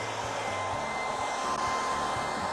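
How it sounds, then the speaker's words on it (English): A hair dryer blows continuously at close range while drying paint on a small stenciled sign, a steady whirring hiss with a low hum that holds even throughout. "So I'm going to just hit the dryer on that."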